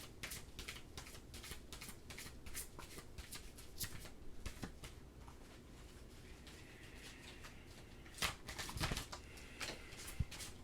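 Tarot cards being shuffled by hand, a steady run of quick crisp riffling flicks close to the mic, with a few louder slaps toward the end and no talking.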